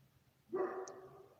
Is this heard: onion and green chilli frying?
no